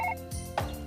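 A telephone rings during a domestic scene in a Hindi TV serial, giving short electronic tone bursts within a single second, close and clear, with no talk over it.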